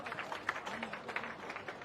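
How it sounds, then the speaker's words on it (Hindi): Crowd applause at a Congress party Samvidhan Bachao rally in Alwar, Rajasthan, a steady wash of clapping from a large audience lasting about two seconds, moderately loud with a few sharper claps standing out. "और जोरदार तालियों से इनका स्वागत करिए।"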